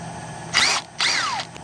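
A cordless impact driver loosens the 1/2-inch head bolts on an engine, firing two short, loud, close bursts of rattling hammering with a falling whine as the second one winds down.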